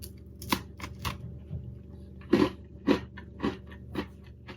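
Crunchy Hydrox cookies, at least three years old, being bitten and chewed close up, with a series of distinct crisp crunches spaced irregularly over a few seconds against quiet background noise.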